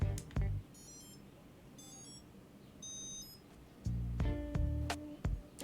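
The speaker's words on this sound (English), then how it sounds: "that super retro sound from the piezo buzzer" Several short, high electronic beeps from a tiny game console's piezo buzzer ring out in quick bursts at startup, separated by pauses, with thumps and clunky handling noises near the start and end.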